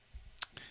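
A computer mouse right click during work in Maya 2018.2 software, heard as two short, crisp clicks a moment apart, close and quiet, with no talking.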